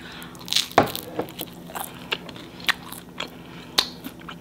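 Several sharp, close crunches as teeth bite into crispy homemade fried food with a bubbly, airy interior, followed by softer chewing, with no talking.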